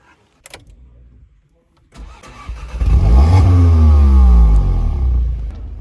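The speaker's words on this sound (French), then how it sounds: "Maintenant on a démarré la voiture, donc l'alternateur vient donner du jus." An Audi S1's engine cranks and catches, then settles into a loud, steady idle close by in a garage, after a brief click and a short pause; no one speaks.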